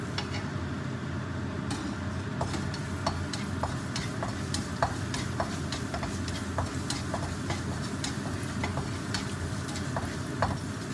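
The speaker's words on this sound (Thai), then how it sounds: "ก็ใส่กระเทียมค่ะลงไปเจียวกันค่ะ" Chopped garlic frying in hot oil in a wok gives a steady close sizzle, with light intermittent ticks and scrapes from stirring scattered over it and no talking.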